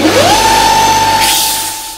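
A bench sander for flattening halves of a metal pendant spins up quickly to a loud, steady whine that holds, then begins to fade.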